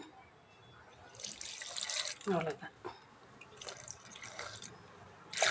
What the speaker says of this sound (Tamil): கொஞ்சம் தண்ணி ஊற்றிக்கலாம்